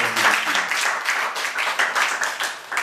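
Audience applause for Yolanda, a dense run of hand claps that fills the room evenly and holds steady for a few seconds.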